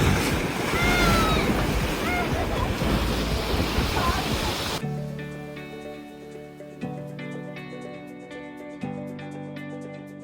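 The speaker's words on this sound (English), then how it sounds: "the water just gushes in and then sucks back out really quickly" Sea water surges and churns loudly into a collapsed sea cave on the Oregon coast, then after a sharp cut gives way to a steadier, tonal backdrop with repeated low swells.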